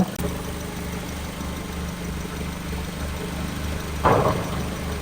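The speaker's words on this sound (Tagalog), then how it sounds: "maganda yung tunog ng makina. Wala siyang singaw." A Mazda 3 engine idles steadily with a low, even rumble and a faint periodic pulse, one brief clunk partway through, no voices.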